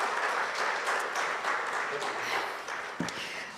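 Audience at a research launch event applauding as a speaker comes up, a steady dense roar of clapping that slowly fades toward the end, with some voices underneath.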